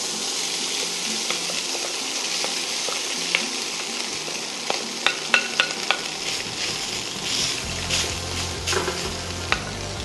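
Tofu pieces frying in vegetable oil in a hot wok, a steady broadband sizzle with scattered pops and crackles and occasional stirring clatter, close and fairly loud, no talk.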